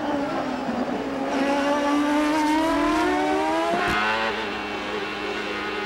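IndyCar race cars braking hard into a bumpy corner at Belle Isle in Detroit, 1997, loud close engine whine dropping steadily in pitch as they slow, with a brief squeal and thump near the end.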